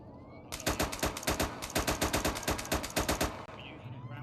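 Rapid automatic gunfire in an AFI OPS PvP event set in a 1992 uprising, firing one long burst of closely spaced shots that sound loud and near before stopping abruptly.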